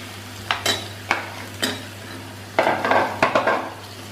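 Chopped potatoes tumble into a pan of sautéed onions for a Gujarati okra and potato curry, followed by scraping stirs: a few sharp clatters of spoon on metal pan, then a busier run of clinks and stirring with faint sizzle beneath.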